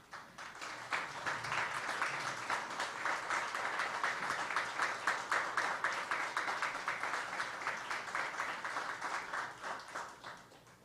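Audience members at a cancer summit in the U.S. Virgin Islands applaud standing cancer survivors with a steady, moderately distant round of clapping that holds for several seconds and then tapers off.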